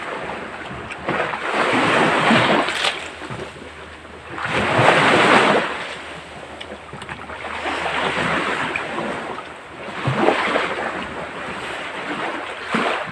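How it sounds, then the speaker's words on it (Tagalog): Strong wind gusting across a seaside shore, with surf washing in behind it; broad roaring swells rise and fall in waves of loudness, peaking every few seconds, with no talk. "Grabe ang hangin."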